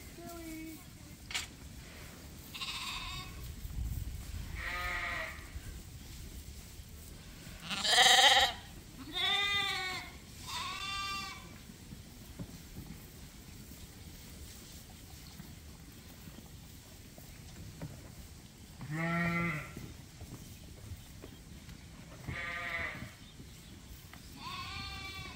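Sheep on a farm bleat in several separate calls, some loud and close and others fainter, spaced out over a quiet outdoor background.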